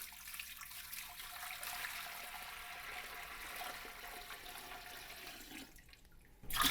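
Cool tap water runs steadily into a clean brewing pot being filled with 2.5 gallons for a homebrew amber ale, a soft, even rushing that swells louder in the final moment.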